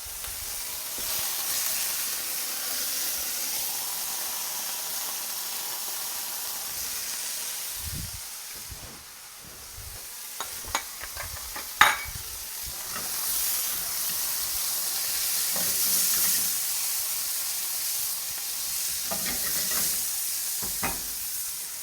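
Food cooking in leftover bacon grease in the same pan used for bacon, a continuous soft hiss and sizzle with scattered stirring taps and one sharp clink partway through.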